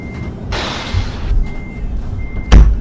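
Steady reversing beeps from a truck in a truck driving game, with a broad hiss of air and a sharp thump near the end, close and clear.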